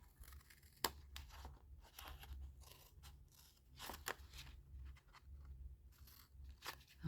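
Scissors snip a small paper rectangle from a scored paper gift bag, giving a handful of short, close crisp cuts and faint crinkles over low room hum, with no voices.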